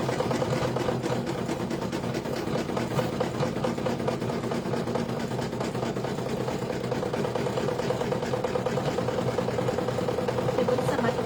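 An embroidery machine stitches an in-the-hoop Easter bunny basket, a steady fast mechanical whirr with a rapid needle rhythm running unbroken throughout at close range.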